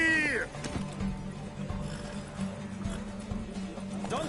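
Galloping horse hooves in a video game race clop rapidly and steadily, with a short whinny at the start and a busy background.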